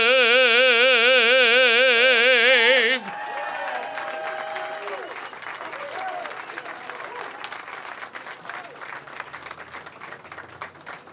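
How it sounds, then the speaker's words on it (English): An outdoor crowd applauds at a Hollywood Walk of Fame ceremony, a sustained wash of clapping that follows the final held notes of a sung anthem, continuing steadily to the end. "Let's give another round of applause to our honor guard and Steve Amerson."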